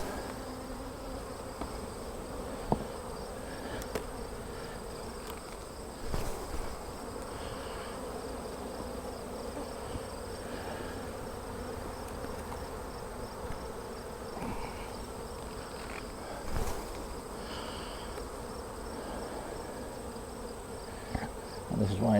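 Honey bees buzzing around hive frames as they are lifted out, shaken and returned during a hive inspection: a steady, dense droning hum throughout, moderately loud, with occasional light knocks and handling noises.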